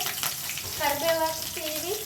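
Curry leaves hitting hot oil in a home chicken curry pan give a continuous close sizzling hiss, while a voice speaks briefly over it.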